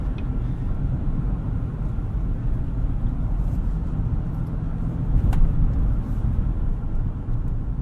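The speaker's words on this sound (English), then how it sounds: "This V8 sounds phenomenal." A 2018 Chevrolet Tahoe RST with a V8 and 10-speed automatic while driving: a steady low engine rumble and road drone from inside the cabin, swelling slightly near the end.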